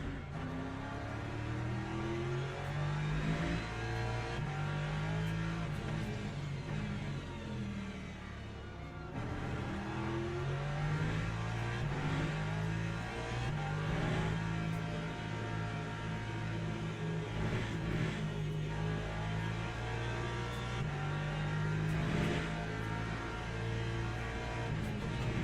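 A Porsche hypercar races around COTA in Le Mans Ultimate, its engine droning and rising and falling through gear changes as it accelerates and brakes, a steady onboard roar with no talk.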